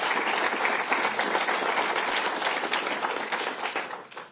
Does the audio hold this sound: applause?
yes